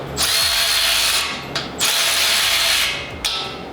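A Milwaukee Fuel brushless cordless drill whirs loudly and close in three sustained bursts, each spinning down briefly before the next starts.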